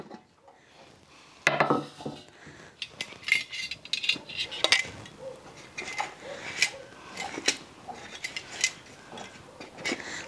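Metal utensils clink and scrape against a pot while serving red tamales and rajas-with-cheese tamales in a home kitchen, with irregular close knocks, scrapes and rattles throughout and no talking.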